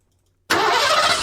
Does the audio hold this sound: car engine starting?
yes